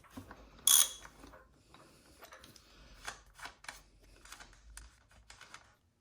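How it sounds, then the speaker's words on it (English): A wrench works the 22 mm axle nut off the front wheel of a WR250R motorcycle, giving close, irregular metallic ratcheting clicks and taps, with one sharp louder clack near the start and a few quiet pauses. "Starting with this nut right here, this is going to be a 22 millimeter. Go ahead and take it off."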